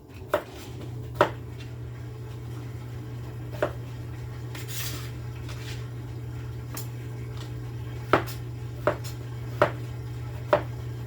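Knife chopping food on a cutting board in a home kitchen, a handful of sparse, sharp taps spaced irregularly over a steady low hum.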